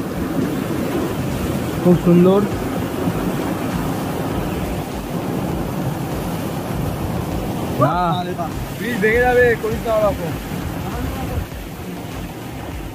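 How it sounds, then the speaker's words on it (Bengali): A torrent of water rushes by with a steady, close roar beneath a voice speaking briefly at a few points. "দেখো জলের তোড় দেখো"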